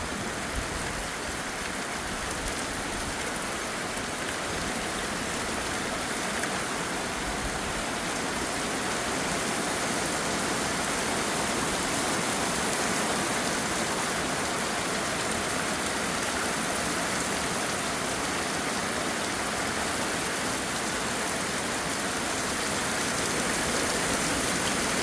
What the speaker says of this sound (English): Glad it's raining.